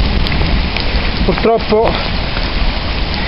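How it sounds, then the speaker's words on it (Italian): A heavy rainstorm with hail pours down in a dense, loud, continuous hiss of drumming water outdoors near a road, with someone speaking briefly partway through. "siamo praticamente sotto una tempesta d'acqua. Grandine a non finire."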